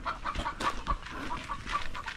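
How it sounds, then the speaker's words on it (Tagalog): Backyard chickens clucking close by, a steady run of short, rhythmic clucks and murmurs, moderately loud with no one speaking. "Kumusta na ang mga manok natin?"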